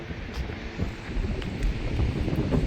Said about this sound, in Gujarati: પવન તો એવો ને એવો હોય, એસી જેવો આવે.